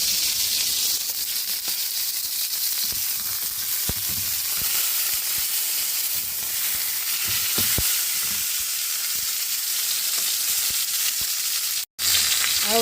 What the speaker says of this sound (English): Just the right amount of sear for this pot cooking.